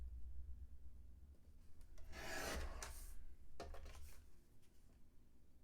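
Paper being trimmed for a card gift box: soft, quiet scraping and rasping strokes, one longer pass in the middle followed by a shorter one, with a faint hush in between and no talking.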